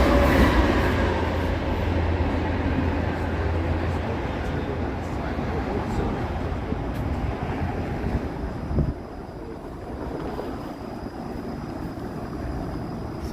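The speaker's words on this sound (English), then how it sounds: "That's a Via train." A VIA Rail passenger train rumbles past on a cold afternoon in Toronto's east end, a steady loud roar that fades after several seconds, with street ambience and a voice talking over it.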